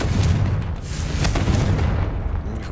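A Confringo blasting spell exploding in a Harry Potter video game, a loud, sustained rumbling boom with crackling debris that rolls on and slowly fades.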